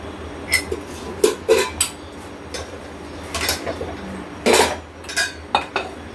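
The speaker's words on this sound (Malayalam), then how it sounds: "പുട്ടും കുറ്റി എടുത്തു. അതിൽ അച്ചിട്ടു." Metallic clinks and clatters as a disc is set into a metal puttu steamer in a Kerala kitchen, several sharp knocks in irregular bursts, close and fairly loud.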